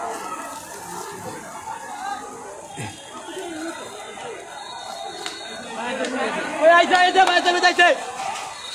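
Water spraying onto a burning building beside a metro station in Shewrapara, Dhaka, as a steady hiss under constant crowd chatter and shouting, growing louder and more agitated toward the end.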